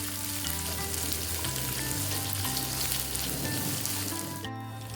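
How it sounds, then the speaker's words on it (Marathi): Grated coconut roasts in a pan on a low gas flame alongside onion, giving a steady, close sizzle with light stirring scrapes, while a low hum runs underneath. "खोबरं हे लाल होईपर्यंत भाजून घ्यायचं आहे, हे पण मंद गॅसवर"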